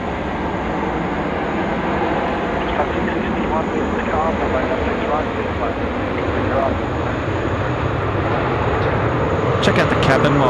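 A jet airliner powers up for a night departure from runway 16 right at Sydney Airport, producing a steady, broad roaring rumble heard from a distance with a faint whine on top, while talk or radio chatter runs underneath.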